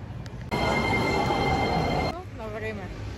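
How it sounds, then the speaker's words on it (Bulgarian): A metro train rolls past with a loud, steady mechanical roar and hum that cuts off abruptly, followed by quieter ambient rumble and a voice speaking. "Отиваме към метрото."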